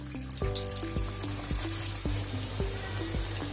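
Chicken lollipops and chicken balls fry in a pan of oil over medium-low heat, a steady close sizzle and crackle with a few clinks and scrapes of a utensil, no voices.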